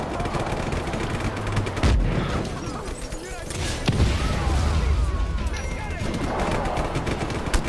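Gunfire and explosions from the video game Just Cause 3 make dense, continuous booms and bursts of shots throughout a busy game mix.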